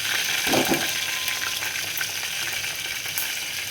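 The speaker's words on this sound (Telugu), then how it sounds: "తాలింపు వేసాం." Tempering of red chillies sizzling in hot oil for a carrot and raw mango chutney, a steady close crackle with a brief burst of stirring near the start, no talk.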